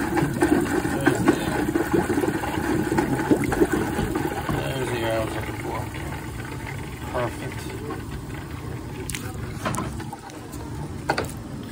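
Cold water rushes and gurgles through a purge hose while a Laars residential boiler is drained, a continuous turbulent flow heard up close with some mechanical clicks.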